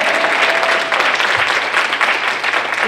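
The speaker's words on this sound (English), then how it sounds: "we're going to give her a round of applause" A church gathering gives a steady round of applause in honour of a mother, dense sustained clapping filling the room at close range without a break.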